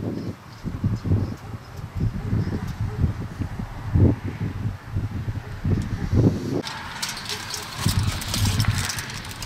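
Strong beach wind buffeting steadily along the shore, a continuous low rumbling roar with gusty surges, and voices in the background.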